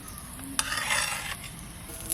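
Food frying in a pan in a home kitchen while being stirred and scooped out, with a soft steady sizzle and a few clinks of a utensil against the pan, no voices.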